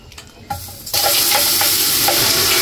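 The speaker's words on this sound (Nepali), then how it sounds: "तात्यो तेल हालिदिउँ तेल हाल्ने हो खनाउने हो" Hot oil poured over food in a home kitchen, a sudden loud sizzling burst that takes over after quieter clinks and stays as a dense, steady crackle to the end.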